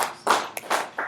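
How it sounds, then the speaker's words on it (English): A lecture audience gives a short burst of applause, a few loud separate rounds of clapping close together, with no talking. "Let's give them a round of applause."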